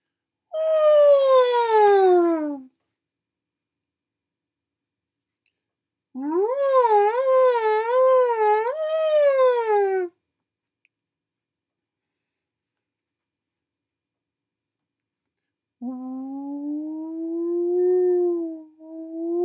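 A voice imitating a whale call sings three long, sliding, wavering hoots separated by silences, the first falling, the second undulating, the third lower and rising, clear and close.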